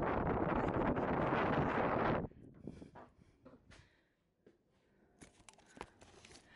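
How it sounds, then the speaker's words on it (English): Loud wind buffeting the microphone for a couple of seconds, then dropping to gusty rustling and faint scattered noises. "It's so windy"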